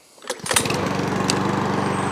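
A Mountfield S421RPD self-propelled lawn mower engine starts and settles into a loud, steady running drone close by, with no talking.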